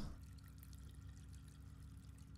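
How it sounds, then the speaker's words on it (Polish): Running water from a bathroom in the horror game Layers of Fear 2, a faint steady trickle and pour under low rumbling ambience that continues evenly for a couple of seconds with no talking. "słychać nawet wodę z tej łazienki"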